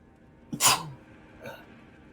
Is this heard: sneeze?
yes